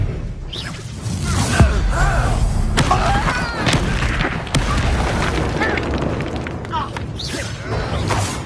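The Confringo fire spell explodes during a duel in Hogwarts Legacy with booming blasts and whooshes over dense, continuous combat noise. Characters talk over the fight.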